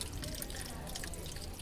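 Water runs out of a washing machine with a drain problem, making a steady, close trickling and dripping wash of sound with no talking.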